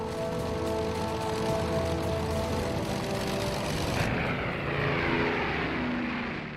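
Short Stirling WW2 four-engine bomber with a steady, loud propeller-engine drone that holds throughout and shifts in tone partway through, no voices.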